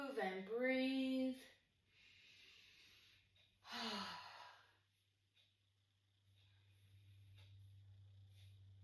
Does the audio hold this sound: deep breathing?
yes